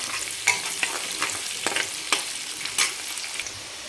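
A small chopped onion fries in a pan for spicy dry village-style mutton, a soft steady sizzle broken by several sharp scraping stirs spaced through the clip, close and alone.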